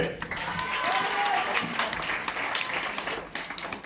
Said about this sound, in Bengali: হাত উপরে তালি হবে